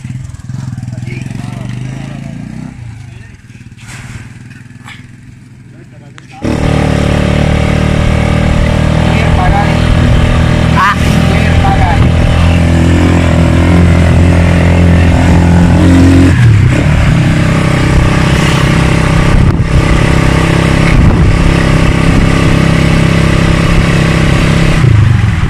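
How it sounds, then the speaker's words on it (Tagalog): A Rusi 175 motorcycle engine idles loudly close by, a steady rumbling drone that shifts slightly partway through, with some clatter. "So masusubukan natin itong tatag ng ating motor, Rosie"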